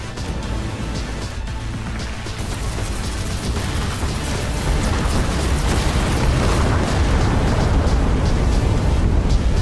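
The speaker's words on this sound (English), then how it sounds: "Several torpedoes are incoming." Torpedo blasts in the space combat game Everspace 2, a dense barrage of deep booms and rumbling explosions that swells steadily louder and fills the whole stretch without letup.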